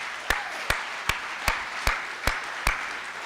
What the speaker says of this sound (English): So let's give these seniors one more round of applause.